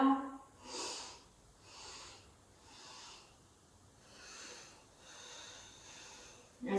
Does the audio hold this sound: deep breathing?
yes